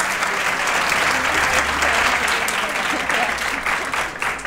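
Studio audience on a Catalan TV word-game show breaking into applause, a dense, steady clapping that fills the clip from start to finish.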